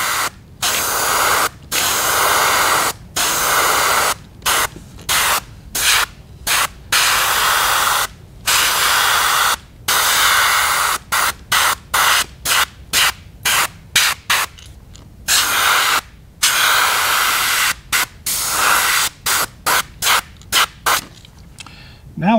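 Airbrush hissing as it sprays paint onto a fishing bait, steady close bursts broken by many short pauses between passes.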